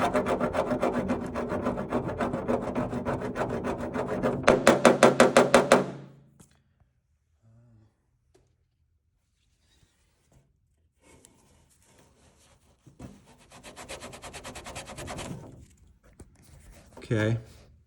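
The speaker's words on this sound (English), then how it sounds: "I got a little scraper and I'm gonna see what happens when we scrape it" A small hand scraper rasps over a rust-converter-coated metal surface on a Datsun 280Z, a dense run of quick scraping strokes for several seconds, then near silence before shorter scraping bursts and a final knock return.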